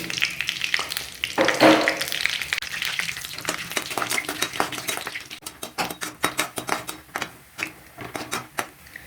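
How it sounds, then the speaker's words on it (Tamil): Cinnamon, bay leaf and fennel seeds fry in hot oil for a vegetable kurma, a close, steady sizzle that gives way to a run of light clicking stirs against the pan. "சோம்பு எல்லாம் பொரிஞ்சிடுச்சு."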